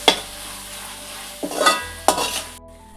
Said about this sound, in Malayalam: തക്കാളിയുടെ ഒപ്പം ഇഞ്ചി വെളുത്തുള്ളി പച്ചമുളക് കുരുമുളക് ഇതെല്ലാം കൂടി ഒന്ന് ചതച്ചെടുത്താണ് വലിയ ജീരകം അപ്പം അതൊന്ന് ഇട്ട് കൊടുക്കാം പിന്നെ കറിവേപ്പില ഇട്ട് കൊടുക്കുക ഇതെല്ലാം കൂടി ഒന്ന് നല്ലപോലെ വാട്ടിയെടുക്കാം